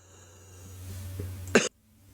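A single sharp cough, close and loud, following a low steady hum, then sudden silence.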